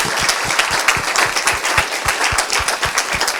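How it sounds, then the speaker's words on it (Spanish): A small audience at an academic session gives steady, close applause, with individual claps distinct and rhythmic throughout and no talking. "vamos a despedir con un aplauso a Irene y Encina"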